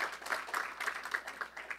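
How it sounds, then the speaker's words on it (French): Church congregation clapping in praise, a moderate burst of hand claps with a loose, slightly pulsing rhythm over a short stretch, no voices. "Est-ce qu'on peut donner une main d'applaudissement à un Dieu qui pourvoit à tous nos besoins?"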